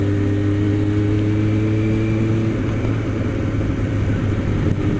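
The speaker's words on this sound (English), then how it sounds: "1998 Suzuki Bandit 600" A 1998 Suzuki Bandit 600 S motorcycle with a front fairing idles steadily up close, its engine a loud, even drone with a harmonic hum that shifts slightly partway through.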